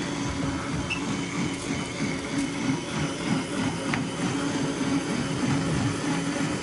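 A Blendtec blender runs steadily at speed 3 or 4, making a continuous loud motor whir with a dense, grinding hum that holds at an even level throughout with no talk.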